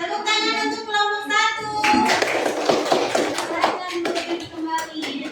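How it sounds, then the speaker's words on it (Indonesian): A classroom group of students bursts into applause, dense overlapping claps that swell into a sustained burst after a brief spoken lead-in, then continue steadily with scattered sharper hand claps. "Tepuk tangan untuk kelompok"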